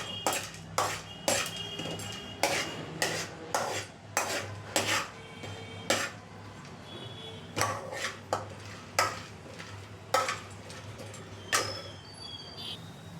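A utensil scrapes and stirs curry leaf powder ingredients, including moong dal, in a pan, making regular rasping strokes about once a second with short pauses, close and fairly quiet over a low background hum.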